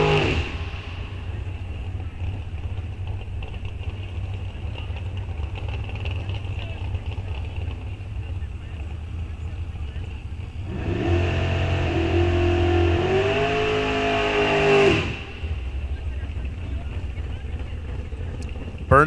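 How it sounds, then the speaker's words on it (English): Drag racing car at Rock Falls Raceway in a bracket series, engine droning steadily, then a louder roaring rev surge with squealing tires for a few seconds before settling back to idle, heard from a distance. "Burnout's complete."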